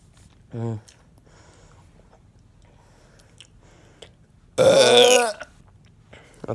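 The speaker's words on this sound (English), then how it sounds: "Let's see how loud I can burp" Two loud burps from a person, a short one early and a longer, louder, gurgling one a few seconds later, with quiet room noise between.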